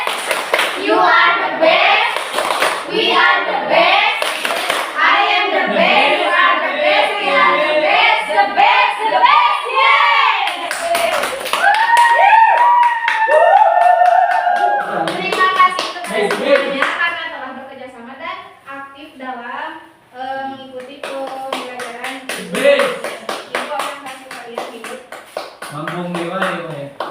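Children chant the "Tepuk the best" clapping routine in a classroom group, with sharp rhythmic hand claps and voices throughout, claps densest early and returning near the end.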